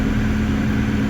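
A car with a faulty throttle body and low fuel pressure idles close by as a steady, loud engine hum without a break, and no one speaks.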